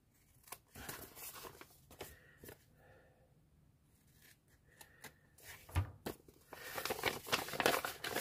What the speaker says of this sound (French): Ensuite, vous prenez vos ciseaux et vous coupez